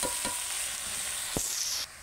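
Cabbage frying in a spiced masala for a rohu fish-head curry gives a continuous close sizzle, with a single scrape of stirring partway through and the hiss easing slightly at the end. No one speaks.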